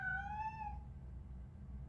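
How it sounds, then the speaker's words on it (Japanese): Cat meowing inside a basement level of the video game RoboCop: Rogue City, a single drawn-out faint meow of under a second, then a low steady rumble of game ambience with no talk. "猫の音でしょ。"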